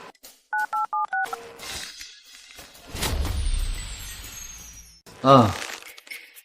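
A telephone number is dialed: five short touch-tone beeps in quick succession, followed by rustling, a low rumble and a sharp crack-like burst near the end, close and clear.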